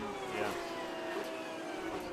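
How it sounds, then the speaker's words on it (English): A race car downshifts and sweeps through turn 4 at Mid-Ohio during an International GT race, a steady engine drone with brief rising blips, heard at a distance under the broadcast. "Listen to those shifters going down, coming around."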